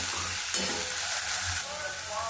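Momo filling sautéing in a pan with black pepper, chili flakes and oregano, giving a steady close sizzle and fry with light stirring scrapes throughout.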